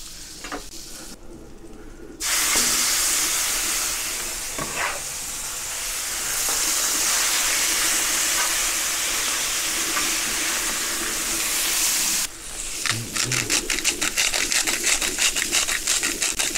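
Butter browning on a Pit Boss Ultimate 2 gas griddle at medium-high heat, a loud continuous sizzle and hiss close up, breaking into crackling spatter near the end with no talking.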